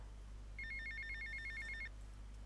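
A telephone in the video game GTA Vice City rings with a rapid, trilling electronic burst lasting just over a second, clear above a low steady background hum.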